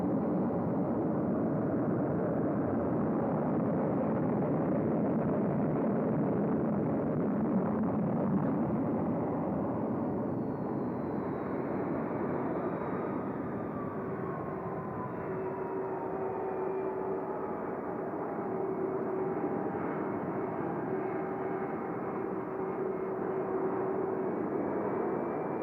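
A jet aircraft taxiing for takeoff gives off a steady, loud broadband engine roar that holds for the whole stretch, with a faint whine drifting slowly in pitch over it.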